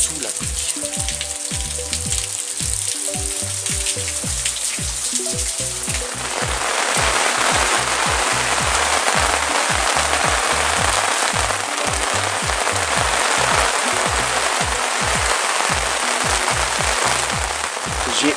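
Steady rain patters and hisses on a camping tent in the Breton woods, a dense continuous wash that thickens after the first few seconds and stays loud and close throughout, with no talking.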